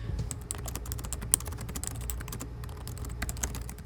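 Rapid keystrokes on the keyboard of an MSI GE76 Raider gaming laptop, a steady run of close, crisp clicking taps with no talking over them.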